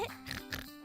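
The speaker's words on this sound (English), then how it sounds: "That was definitely George's oink." A cartoon pig character gives a short oink in a toy-play scene, a brief nasal grunt in two or three pulses, close and fairly loud with no talking.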